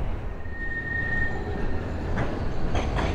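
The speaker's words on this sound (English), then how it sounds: "we watch the tram turning into Talbot Road and heading towards North Station" A tram rolling and turning on street rails in Blackpool, heading toward North Station, with steady low rumble, a brief squealing whine from the wheels and faint clatter near the end, close by and alone without talk.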